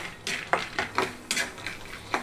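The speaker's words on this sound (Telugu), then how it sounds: "నేను ఇక్కడ పల్లీలు 1/2 కప్ వరకు తీసుకున్నానండి. కొంచెం దోరగా వేయించుకుంటున్నాను." Half a cup of peanuts dry-roasting in a pan, stirred with repeated scraping strokes that give a rhythmic rattle and scrape, close and alone.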